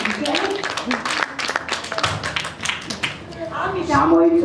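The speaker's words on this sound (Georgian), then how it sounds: "აპლოდისმენტები" An audience at a children's school celebration event gives scattered applause in quick bursts while voices carry on over it.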